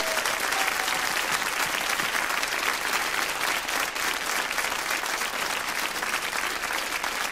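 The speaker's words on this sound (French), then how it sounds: "Je voudrais beaucoup d'applaudissements, s'il vous plaît" Sustained applause from the audience at a philharmonic concert finale, dense steady clapping filling the hall at even loudness throughout with no voices.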